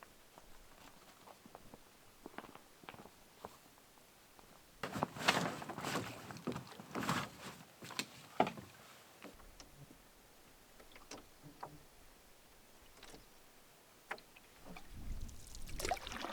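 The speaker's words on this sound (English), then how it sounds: "It's taking a lot of effort just to paddle." Canoe paddling on water in the wild: faint, irregular strokes and soft splashes, with a denser run of louder dips in the middle, heard alone against quiet outdoor ambience.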